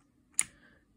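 A single sharp, clicky key press on a Redragon K568 mechanical keyboard with blue switches, close and crisp, followed by a brief fading ring in otherwise quiet surroundings.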